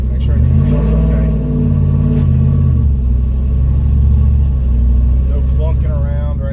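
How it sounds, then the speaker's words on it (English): A cammed 4WD Ram truck with newly fitted adjustable rear shocks on a test drive, a loud low engine rumble throughout that swells with revving, while people talk over it. "We are going to take it for a test drive"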